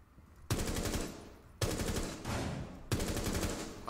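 Shotgun blasts in a Rainbow Six Terrorist Hunt match: three loud, close shots at roughly one-second intervals, each a sharp boom trailing into a reverberant decay.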